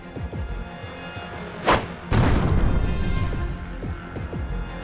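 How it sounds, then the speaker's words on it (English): A grenade in the video game Templar Battleforce lands with a sharp thud and then bursts into a heavy, rumbling explosion that slowly fades over a faint low game soundscape. "Let's throw 1 grenade here."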